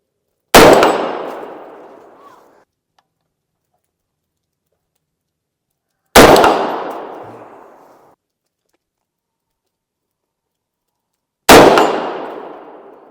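Three sharp suppressed shots from a Ruger SR-556VT rifle with a muzzle device, evenly spaced about five seconds apart, each a loud metallic crack with a ringing decay into silence.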